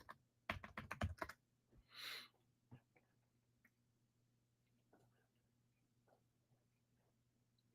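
Quick bursts of typing on a computer keyboard, a fast cluster of close clicks followed by a few scattered single taps in an otherwise quiet room, with a faint breathy noise in between.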